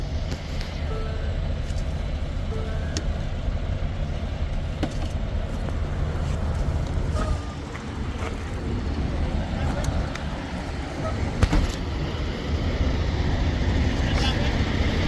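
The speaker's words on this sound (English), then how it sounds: "So now he's gonna try to back under this trailer again." A Freightliner truck, its brake just freed, backing under a trailer: a steady low diesel engine rumble close by, with voices talking over it and a few faint clanks.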